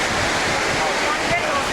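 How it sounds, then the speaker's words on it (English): Ocean waves breaking close to a beach house on the California coast, a steady loud wash of surf and spray with gusts of wind noise, a brief surge near the end. "The waves were breaking over here."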